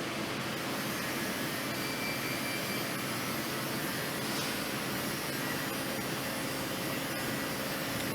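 An M207A orbital welding head drives forward around the joint mid-weld, a steady broadband whir and hiss holding at an even level with no pauses or talk.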